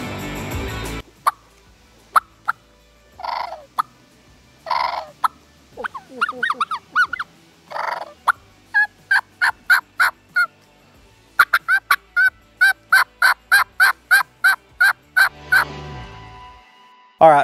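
Turkey calls worked on a Roadkill Batwing 2 call: a string of sharp yelps, clucks and cutting notes near and loud, starting in short separate bursts and ending in a rapid, evenly spaced run of yelps, with no talking.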